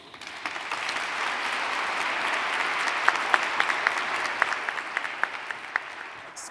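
An audience at a university lecture event applauds to welcome a professor onto the stage, giving steady, dense clapping from many hands that stays even throughout, with a few sharper individual claps standing out near the front.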